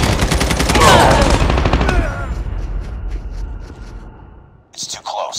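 Rapid automatic gunfire in a shooter video game, loud dense bursts for the first two seconds that thin into scattered shots and trailing echoes, ending with faint whispery game voices.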